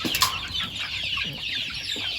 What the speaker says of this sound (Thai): มาเลี้ยงไก่แทน